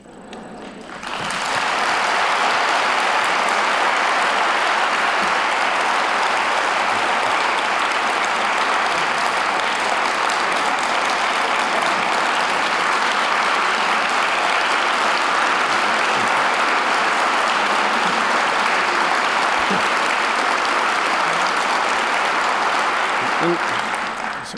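A standing ovation at a prize ceremony, with dense, steady applause from a large crowd that holds at full strength for over twenty seconds and then trails off.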